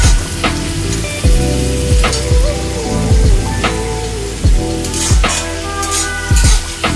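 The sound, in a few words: onions frying on medium flame in iron kadai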